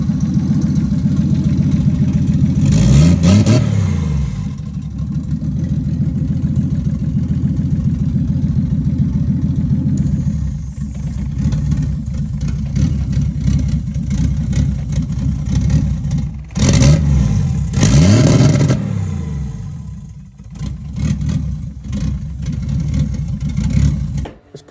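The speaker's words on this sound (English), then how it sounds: "It's pretty much just me revving it" A Subaru engine idles loudly nearby and is revved up several times, the pitch rising and falling with each rev, with some clattering between.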